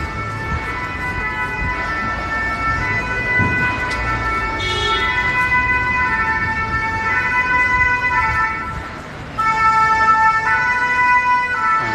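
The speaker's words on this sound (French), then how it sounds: "Là, c'est les pompiers." A fire engine siren wails loud and near through a Paris street protest near Saint-Lazare, its sustained tones cycling over crowd and traffic noise, briefly dipping before sounding again.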